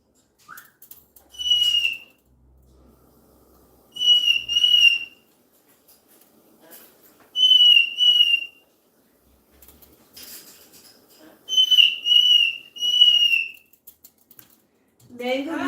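Two pet birds whistle in repeated short bursts, each a bright sweeping call in clusters of two or three, with quiet gaps and faint low background noise between them.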